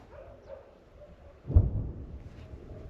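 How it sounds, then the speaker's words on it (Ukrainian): Wild dogs near a Kherson marsh give a single short bark at a distance, faint against quiet outdoor background noise. "Собаки дикі."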